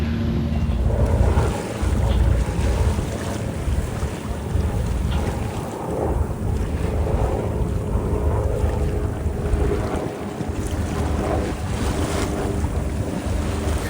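Strong headwind buffeting a sailboat in the Narrows off New York, a loud continuous roar of wind across the microphone mixed with rushing waves and hull noise, steady throughout with no voices.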